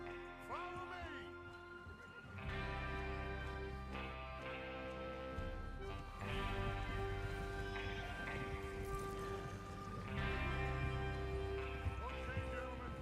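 Several horses heading out together in Red Dead Redemption 2, hooves clip-clopping steadily with neighs and whinnies, fairly close, while voices talk over them.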